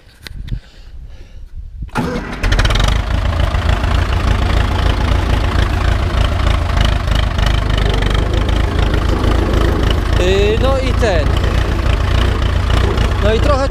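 Ursus C-360 tractor out in a field, its diesel engine cranking over and catching after about two seconds, then settling into a loud, steady knocking idle that continues to the end.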